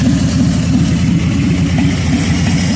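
A warmed-up 2019 Harley-Davidson Softail Slim with a 107 engine, fitted with a 472 cam and SE oil pump, idles close by in a steady, loping low rumble with no voices over it.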